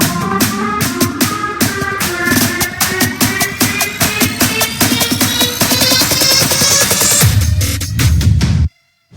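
An EDM drop built in FL Studio with a low-pass filter and snare build-up: loud, dense electronic music with pounding repeated hits and bright synths rising in pitch, then a brief low-end swell before it cuts to silence.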